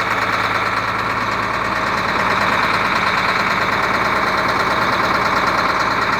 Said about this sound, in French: écoutez maintenant le démarrage et le brandissement du moteur